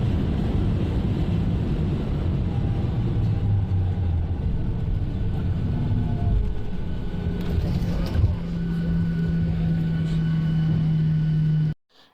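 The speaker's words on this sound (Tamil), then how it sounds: "அந்த பியூட்டிஃபுல்லான ஹார்டான செம்ம த்ரில்லிங்கான ஃப்ளைட் லேண்டிங்" A Ryanair airliner touching down at an airport in Spain, heard from inside the cabin as a loud, steady roar of engines and rushing air, with a low droning hum building in the later seconds before cutting off abruptly.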